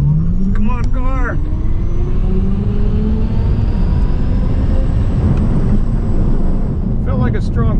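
Tesla Plaid launches hard down a drag strip, a loud rising electric whine and rumbling road and wind roar swelling close by, with brief voice-like chirps at the start and end.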